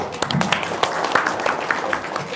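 An audience at a Friday Maulid Nabi religious gathering claps together, a continuous wash of hand claps with a few sharper slaps standing out, fairly loud and close, with no talking over it.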